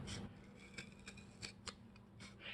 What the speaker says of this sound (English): So I'm gonna cut out a little circle to use for his mouth.